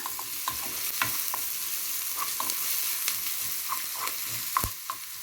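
Onions sauté in ghee alongside browned meat for okra stew, with a steady sizzle and frying hiss under scattered scraping stirs of a utensil against the pot.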